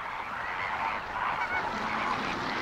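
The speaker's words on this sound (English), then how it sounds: "The birds use loud honking calls to activate the flock." A flock of flamingos honks loudly and continuously, overlapping nasal calls rising into a busy, urgent chorus with no pauses.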